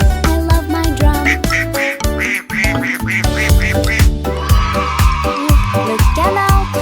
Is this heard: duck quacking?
yes